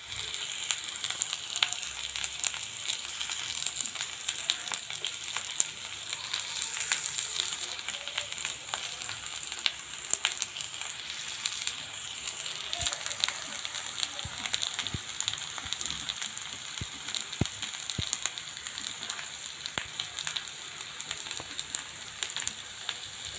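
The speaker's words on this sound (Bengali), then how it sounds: "এগুলো তেলের মধ্যে ভেজে নেব। তেল গরম হয়ে গেছে" Black cumin leaves and green chilies sizzling in hot oil with salt, a continuous, fairly quiet crackle with scattered sharper pops and no talking.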